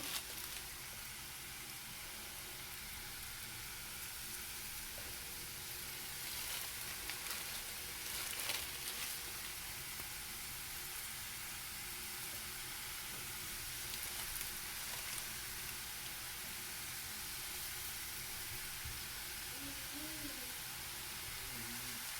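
Rice-flour madhurasevai, a traditional Kerala crispy sweet, frying in hot oil gives a steady, soft, even sizzle that runs quietly throughout.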